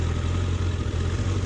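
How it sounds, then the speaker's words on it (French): A Honda CBR1000RR Fireblade motorcycle with its stock exhaust runs steadily at close range, a loud, low, continuous engine rumble with a dense throbbing tone. "on va vous faire écouter un peu le bruit d'abord."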